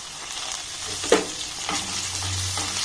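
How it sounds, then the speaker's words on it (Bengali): Carrot, onion, capsicum and tomato stir-fried together in a pan for Korean rice balls, a steady close sizzle broken by a couple of sharp scrape-and-toss strokes of the spatula, with no talking. "সমস্ত উপকরণ আবার একটু নাড়াচাড়া করে ভেজে নেব"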